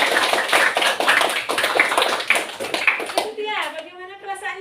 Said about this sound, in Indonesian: Tepuk tangan buat Dewede.